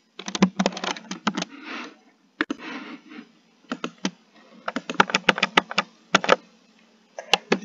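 Rapid clacking keystrokes on a computer keyboard arrive in close, crisp bursts separated by short pauses, loud and isolated without speech.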